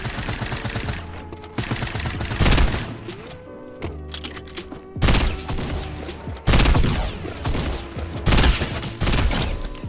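Pump shotgun blasts in Fortnite Mobile, loud booming shots spaced a couple of seconds apart amid dense game noise and other rapid gunfire.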